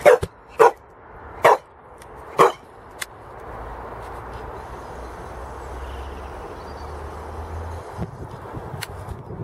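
A pet dog barks several sharp times close by at an allotment, the barks spaced out over the first few seconds before giving way to a steady low background rumble and faint ambient noise.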